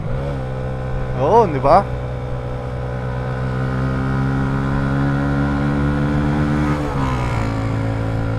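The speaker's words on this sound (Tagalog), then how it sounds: "Engine brake, rev match, tas throttle." A manual motorcycle shifting gears on an uphill road, with engine braking, rev matching and throttle. A steady engine drone rises and falls in pitch, with a sharp throttle blip early and a downshift drop near the end, under brief talk.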